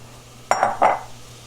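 Mushrooms tipped into a butter mixture in a pan give two quick, close clattering bumps of food and utensil on cookware, with no talking.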